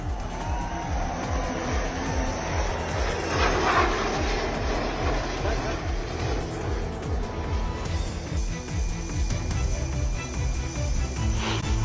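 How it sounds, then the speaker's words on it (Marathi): A Tejas fighter jet takes off from the Ozar runway, its engine producing a loud, sustained roar with a rising whine that swells and holds across the whole stretch, dominating the scene. "ओझरच्या धावपट्टीवरून तेजसची झेप।"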